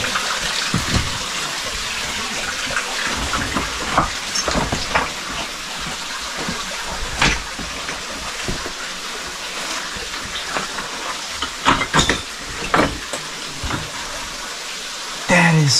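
An underground river rushes continuously through a cave in a steady broadband wash, with occasional louder splashes and knocks breaking through.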